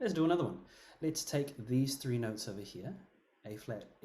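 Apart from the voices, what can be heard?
No distinct noise like a dog, phone or traffic.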